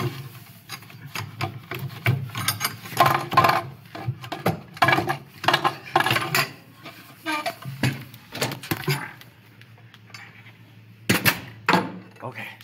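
Wooden 2x4 classroom door barricade fitted with a carriage bolt and wing nut being pulled off, giving a series of close scraping, rasping wood rubs and knocks in uneven bursts with short gaps.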